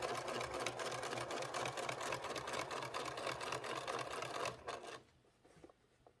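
A sewing machine with a built-in walking foot stitches a hanging sleeve onto an already-bound quilt, running in a fast, even mechanical chatter for about four and a half seconds before stopping abruptly.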